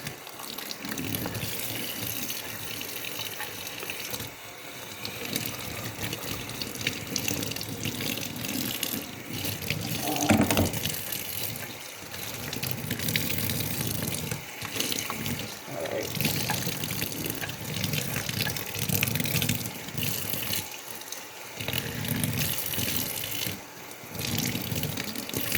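Xbox 360 cooling fans rinsed under running tap water, a steady close gush and splash that carries on for the whole stretch with small shifts as the parts are moved through the stream.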